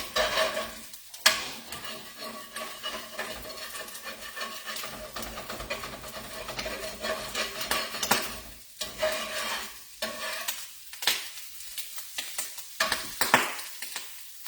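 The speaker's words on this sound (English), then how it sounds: "I'm going to let this fry up a little bit more." Steady crackling sizzle of an egg frying in a pan, with scraping and stirring bursts throughout, fairly close and continuous.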